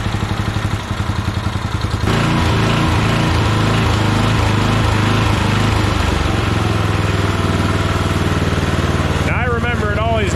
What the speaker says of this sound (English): I remember it always doing that surging at the high idle without a load on it